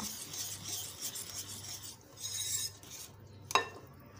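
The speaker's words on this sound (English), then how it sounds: "I will mix all the ingredients" A spoon stirs and scrapes through a thick karhi mix of curd, gram flour, turmeric, chili powder and salt, making steady rasping strokes with one sharp clink of the utensil near the end.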